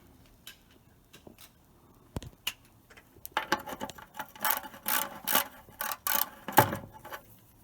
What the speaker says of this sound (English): I'll tighten that up using the socket.